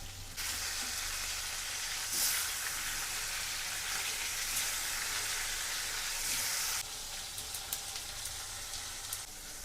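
Oil sizzles loudly in a pan as a curry is started in a home kitchen, a bright steady hiss from the first moment that cuts off sharply near the end, leaving faint scattered crackles.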